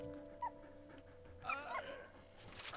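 A dog in the World War I video game Valiant Hearts gives a few short yips and whimpery barks over a low droning game soundscape with faint distant tones, fairly quiet overall.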